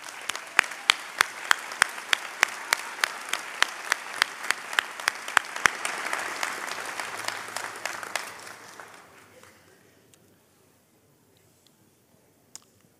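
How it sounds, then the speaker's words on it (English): A law school hooding ceremony audience applauds families in a steady round of clapping that swells, then fades out over about ten seconds, leaving near silence. "I think they deserve another round of applause."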